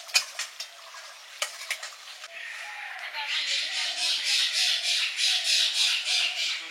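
Eggs frying in a home kitchen pan: a few sharp taps and scrapes of a utensil, then a close, steady sizzle that rises and pulses as they are turned, with voices talking nearby.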